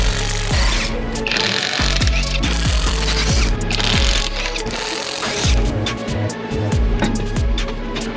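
A hand ratchet loosening the lug nuts to pull a car wheel off and reach the brake caliper, clicking loud and close in quick repeated bursts of rapid pawl ticks with brief pauses between strokes.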